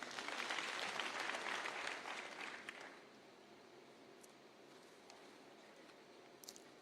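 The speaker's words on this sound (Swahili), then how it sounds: "Wapigie makofi wale." Applause for delegates at a party conference in a large hall at Bomas of Kenya, Nairobi, rising loud for about three seconds and then fading to scattered claps and room murmur.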